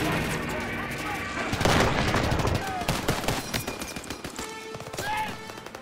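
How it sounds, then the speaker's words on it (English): Gunfire and explosions from the World War II shooter Call of Duty WWII, with sharp shots and rapid bursts over a rumbling battle background and a louder blast cluster in the middle. "I really liked a lot of the gun sound effects and the explosions"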